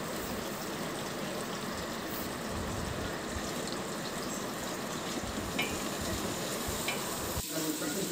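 Whole spices such as bay leaf, cinnamon, cloves, cardamom and star anise frying in hot ghee for bagara rice, a continuous dense sizzle with faint stirring and a brief clink near the end.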